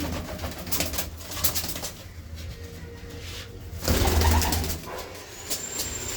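Pigeons kept by a fancier coo in a dense, near chorus, with a louder burst of low rolling coos partway through and faint chirps and wing sounds mixed in.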